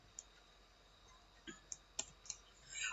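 Mouse clicks on the submit button of an online income certificate application form: a few faint, sharp clicks spaced irregularly over quiet room hiss.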